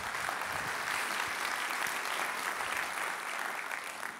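An audience at a civic Long Beach event applauds the hosting convention staff, a broad, steady burst of clapping lasting about four seconds that tapers slightly at the end.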